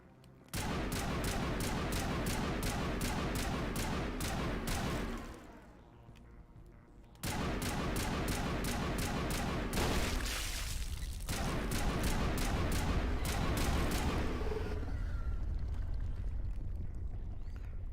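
Sustained rapid automatic gunfire in Mass Effect, long loud bursts of evenly spaced shots with a short pause between volleys and rumbling effects toward the end.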